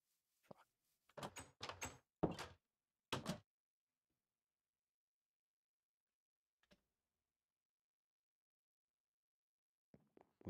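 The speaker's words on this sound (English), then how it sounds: "I'm going to go install a door." Blocky wooden door sounds in Minecraft, a quick cluster of clacking thuds followed by a pause and a couple of later single clicks, crisp and close with no talk.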